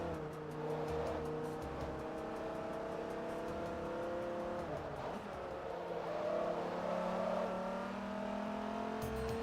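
A Dodge Viper engine drones loudly while driving in the Forza Motorsport 3 racing game, its pitch sliding up and down through gear changes at a sustained, fairly even level.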